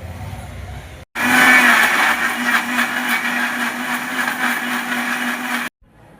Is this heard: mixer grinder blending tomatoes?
yes